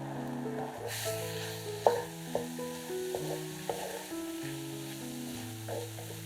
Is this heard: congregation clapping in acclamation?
no